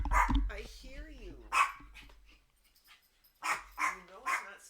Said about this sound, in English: Guess the dog wants food.